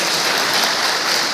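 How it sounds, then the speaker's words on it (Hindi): An audience at a district-level traders' convention gives loud, dense applause welcoming a minister, a continuous roar of clapping with no gaps. "जोरदार तालियों से उनका स्वागत करिए।"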